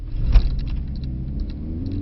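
Mercedes-Benz C63 S E car accelerating under power, a steady low engine rumble with a rising tone building toward the end, heard from close by without talk.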